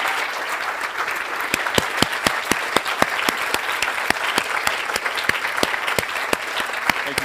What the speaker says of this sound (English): we really want to give a big round of applause to all the mentors